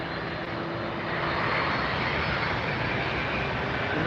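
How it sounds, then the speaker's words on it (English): DHL cargo jet's engines spooling up at Miami Airport, a loud, steady broadband roar that swells after the first second and holds close and continuous with no talk. "I can hear DHL spooling up behind me here"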